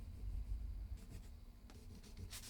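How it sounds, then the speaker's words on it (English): A pen or pencil sketches the outline of a foot keyboard on paper, with faint scratchy strokes in a few short bursts against a quiet room. "I'm just gonna draw it."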